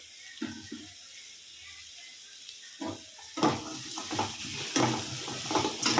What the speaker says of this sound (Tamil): நல்லா நான் பீட்ரூட்டை கிளறி விடுறேன்.